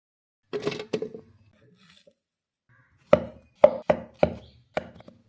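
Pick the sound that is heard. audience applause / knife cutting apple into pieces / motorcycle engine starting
knife cutting apple into pieces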